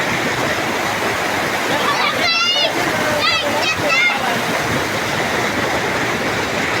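A river stream rushes with continuous hissing and splashing water close by, while voices talk briefly over it partway through.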